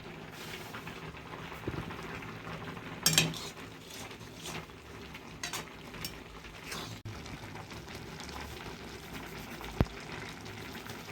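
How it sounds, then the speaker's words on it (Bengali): Milk with sugar, cashews and raisins boils in a pot, giving a steady low bubbling and simmering hiss with a few louder clinks and pops, close by and with no talking. "দেখো কেমন দকবক করে ফুটছে"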